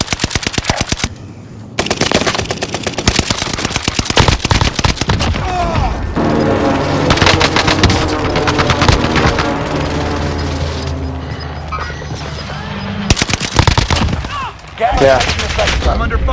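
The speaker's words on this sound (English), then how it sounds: "I'm under fire." Sustained, loud automatic gunfire in a video game: long rapid bursts of rattling shots, briefly pausing and then resuming, with a voice faintly underneath.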